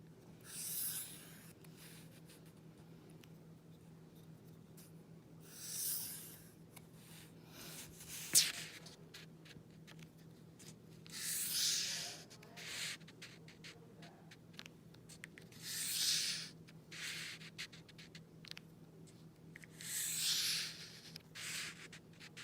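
Lines are drawn across paper to its edges for a woven paper placemat. Faint, soft scratching strokes come every few seconds, with a steady low hum and near-silence between them.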